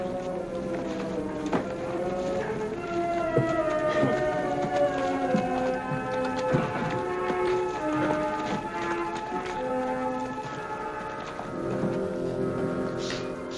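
Horses' hooves clip-clop at a steady, unhurried pace in an old Western setting, fairly faint and continuous beneath low background sound, with a voice speaking over them now and then.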